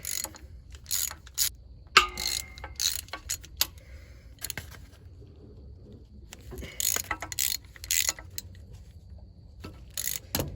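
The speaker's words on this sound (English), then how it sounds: "we'll go ahead and loosen these first, just to get them cracked loose" A ratchet loosens bolts on the drive shaft of a Freightliner FL70 truck, giving close, crisp bursts of clicking pawls in short strokes, separated by pauses and occasional metallic clinks.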